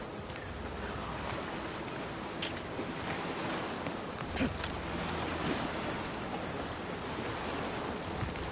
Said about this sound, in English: If I just sit here for a while and enjoy the waves